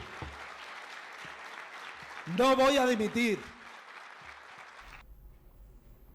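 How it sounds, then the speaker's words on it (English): Audience applause breaks out at a press event as a Spanish-speaking man declares he will not resign, steady clapping under his amplified voice, then fading after a few seconds. "And you see the applause."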